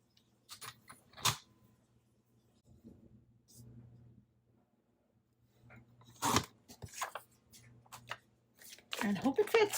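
Paper being cut for a craft layout, a few sharp crunchy snips and rustles spaced apart, close and fairly quiet, with a denser burst of handling near the end.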